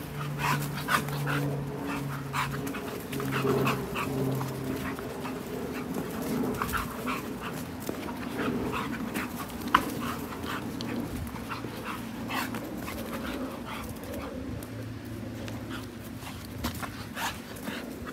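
Dogs in a pack pant steadily in the heat, quick rhythmic breaths close by, with occasional whimpers and small yips mixed in across the stretch.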